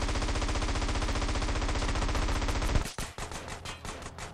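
Rapid automatic gunfire in GTA San Andreas, a dense, loud burst of machine-gun shots lasting nearly three seconds, then a few heavier scattered impacts and noise trailing off.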